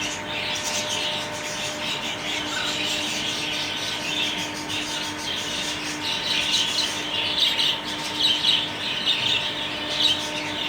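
Yellow parrots chirp and squawk intermittently in an outdoor setting, a steady bed of high twittering with a few louder calls rising toward the end, moderately close.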